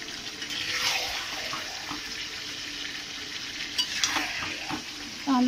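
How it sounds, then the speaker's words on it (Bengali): Chicken and large-cut potatoes stirred and sautéed in a pan for a home-style curry, with soft scraping and a gentle sizzle, a few clinks of a spoon against the pan, and a brighter metallic scrape near the end. "এবার আলু দিয়ে একটু কষাই"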